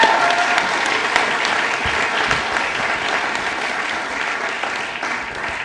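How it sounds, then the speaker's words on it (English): A crowd at a club awards ceremony gives a big round of applause, loud and dense at first, then thinning gradually while staying steady throughout. "Can we have a huge round of applause for all 4?"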